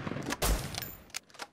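Gunfire in the survival video game Rust: a short burst of several sharp shots, with a couple of further isolated shots after it, fairly faint and heard without speech.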